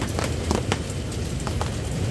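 Heavy typhoon rain pours down on a campsite, a dense, close, steady patter and hiss with scattered sharper drips striking nearby surfaces throughout.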